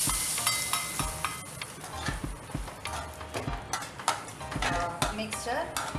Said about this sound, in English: We need to pour the seasoned oil into the